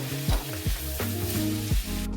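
Steady sizzling of boiled rice and vegetables stir-frying in a pan for mixed fried rice, with a few scraping stirs breaking the hiss at regular intervals; no voices.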